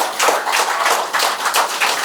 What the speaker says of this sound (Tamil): வாய்ப்பு கொடுத்த இந்த அறங்காவலர்கள் இவர்கள் அனைவருக்கும் நாம் கைத்தட்டி மகிழ்ச்சியுடன் வாழ்த்தை தெரிவிக்க வேண்டும்.